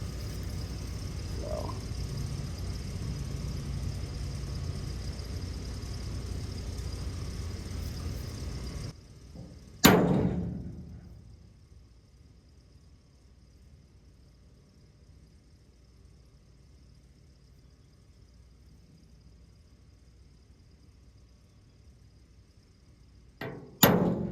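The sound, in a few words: hammer striking a punch to make holes in truck body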